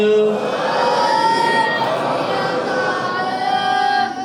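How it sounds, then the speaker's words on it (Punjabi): At a Sikh gurdwara event honouring student winners of a religious quiz, a large crowd shouts the jakara war cry in reply, a loud sustained mass roar of many voices held for several seconds. "ਇਹਨਾਂ ਵਾਸਤੇ ਇੱਕ ਜਕਾਰਾ ਸਪੈਸ਼ਲ ਹੈ ਗੁਰਦੁਆਰਾ ਸਾਹਿਬ ਨੇ ਟੀਮ ਬਣਾ ਕੇ ਭੇਜੀ 46 ਸੈਕਟਰ ਵਾਲਿਆਂ ਬੋਲੇ ਸੋ ਨਿਹਾਲ"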